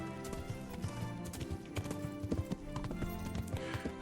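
Horse hooves clip-clop steadily at a riding pace in the medieval game Kingdom Come: Deliverance, close and continuous over a bed of game music, with a brief whinny.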